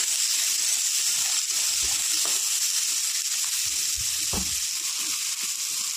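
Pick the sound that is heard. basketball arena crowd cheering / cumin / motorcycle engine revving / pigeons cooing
cumin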